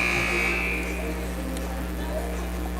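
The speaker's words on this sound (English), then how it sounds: "You hear that buzzer, that's the sound of the 60-second timeout being over." A buzzer sounds at a high school basketball game, marking the end of a 60-second timeout: one sustained electronic tone that fades within the first second, followed by gym ambience under a commentator's voice.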